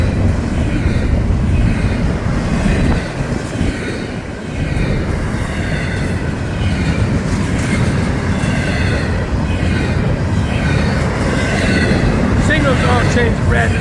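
An FEC northbound freight train passing at 5th Street in St. Augustine, Florida, with a loud continuous rumble of wheels and cars, faint squeals and clacking, steady and close throughout.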